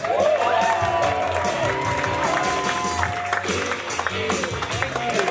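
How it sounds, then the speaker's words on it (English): A comedy club audience at a stand-up show applauds and cheers in a dense, sustained wash of clapping and whoops that stays strong throughout the clip. "Make a whole lot of noise right now for Erik Scott."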